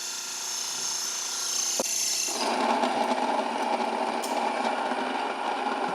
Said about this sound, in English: what I'm gonna do is actually grind some fresh wheat into this